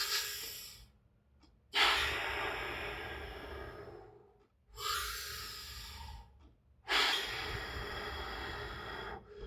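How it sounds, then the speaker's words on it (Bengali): A person seated against a supported chair back demonstrates pursed-lip breathing for COPD, giving three long, close, audible exhalations through the lips, each fading out before a short pause. "পেছনে সাপোর্ট দেওয়া কোনো চেয়ারে পিঠ ঠেকিয়ে বসিয়ে পার্সলি ব্রিদিং করবেন"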